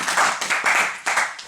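A church congregation claps together to acclaim the Lord, loud and close, in quick rhythmic bursts with short dips between them.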